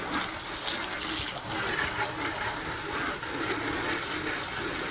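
Water runs steadily over a freshly cleaned filter as it is rinsed, a dense, constant splashing hiss that stays close and loud throughout with no talking.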